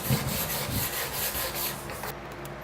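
A wire brush scrubbing rust off metal, a close, continuous raspy scratching in rhythmic back-and-forth strokes that fades out near the end.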